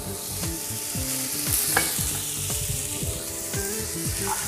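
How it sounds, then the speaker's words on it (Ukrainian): Vegetables stir-fried in a pan for soba with oyster sauce, a steady close sizzle with repeated scraping stirs and clanks of a utensil, no talking. "Закидаємо наші овочі по твердості, обсмажуємо."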